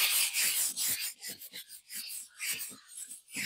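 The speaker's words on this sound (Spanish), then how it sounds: "Vamos a asentarlo con una lija de esponja" Rhythmic rasping strokes of 220-grit sponge sandpaper rubbing a flat MDF surface, close and fairly loud, back-and-forth passes about every quarter second with brief pauses.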